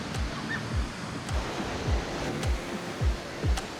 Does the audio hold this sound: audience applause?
no